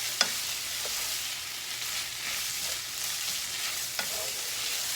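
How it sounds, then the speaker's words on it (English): Beef and broccoli stir-fried in a skillet, a steady close hiss of sizzling fat with a few sharp clinks and scrapes of a utensil stirring through the pan. "I like to move it around for about a minute in the skillet"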